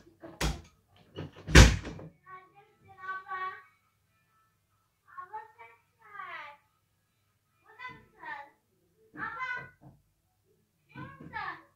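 A wooden door or cupboard bangs twice sharply up close, followed by someone speaking in short phrases with pauses between them.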